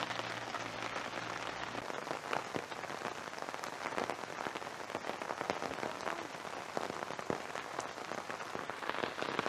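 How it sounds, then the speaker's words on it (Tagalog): Dense, continuous patter of heavy rain pounding a surface at a foggy campsite in Baguio, with scattered sharper drops spattering close by and no voices. "Medyo lumalakas po yung ulan."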